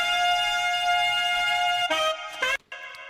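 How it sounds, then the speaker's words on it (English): Saxophone solo with heavy distortion in a studio production, holding a long buzzy note for about two seconds and then a few short, harsh phrases with a sudden dropout near the end, loud and alone. "add a lot of distortion, if you couldn't hear, to that saxophone"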